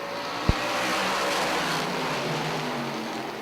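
Race cars accelerate hard off turn four and down the front stretch at the green flag of an oval track race, a steady broad engine roar with a sharp brief pop near the start.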